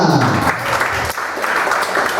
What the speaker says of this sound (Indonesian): saya ucapkan salam tepuk tangan untuk kalian semua.